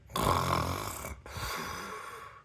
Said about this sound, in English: Jamie let out a snore